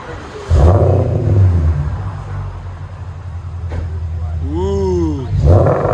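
Deep V8 exhaust note from a Porsche Cayenne S 4.8L fitted with a resonator and Magnaflow muffler, rumbling steadily up close with a blip of revs, while a voice makes a brief rising whoop over it.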